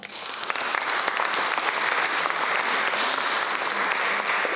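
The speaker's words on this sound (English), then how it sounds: "That's worth you all clapping for." Loud, sustained clapping from an audience at a college convocation and lecture, a thick even wash of hands that swells quickly at the start and continues strongly to the end.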